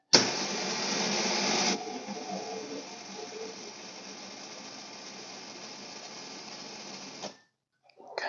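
An electric winch mounted on an ATV runs with a steady mechanical whir and ratcheting drone, louder for the first two seconds, then holding an even level for several more before cutting off abruptly.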